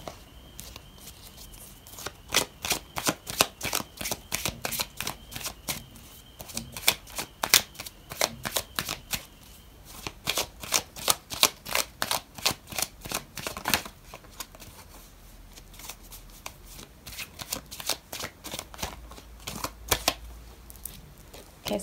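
Tarot cards shuffled steadily for over twenty seconds, a dense, rapid run of crisp riffling snaps with brief pauses, close and fairly loud with no talking.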